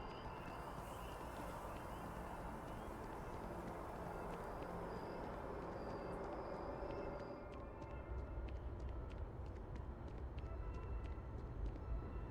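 Steady rumbling tram ride in the space game Starfield, a continuous low mechanical roar with faint clicks and rattles over twelve seconds, moderately loud and alone without talk.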